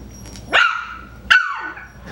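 Coton de Tulear puppies give two sharp, high yappy barks about a second apart, close and loud, followed by a faint trailing yip over a quiet indoor background.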